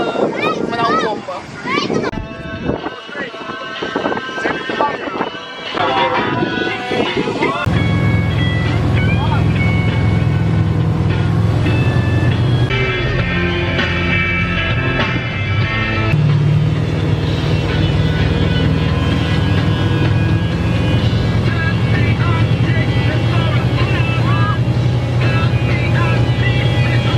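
A motorboat engine drones steadily on the water as it approaches for wakeboarding off Spetses, with wind buffeting the microphone and someone talking over it.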